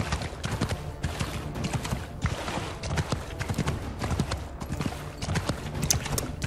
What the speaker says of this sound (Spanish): Al menos le podría haber dado chicha al caballo para ir al trote con las tropas